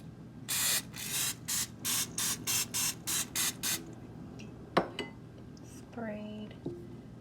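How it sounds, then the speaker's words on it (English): About a dozen short, sharp hisses from an aerosol can in quick rhythmic succession, followed by a few clinks of a pan nearby. "Sprayed again with a little bit of cooking spray"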